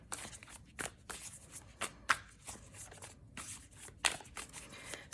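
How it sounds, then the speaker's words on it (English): Rapid riffling of tarot cards, several quick shuffles in close succession, crisp and near with short pauses between bursts. "So we are just going to shuffle a few times"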